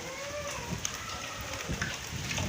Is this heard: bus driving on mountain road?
no